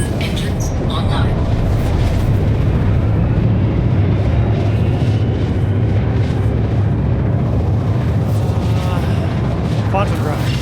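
Engines of a Super Hornet spacecraft in the Star Citizen video game run with a loud, constant low roar and rumble. A voice can be heard at times over the engines.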